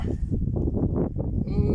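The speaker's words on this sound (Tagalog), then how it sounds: "Lalaki ng kambing." A goat bleats several times in wavering, nasal cries, close by and fairly loud, with some background murmur.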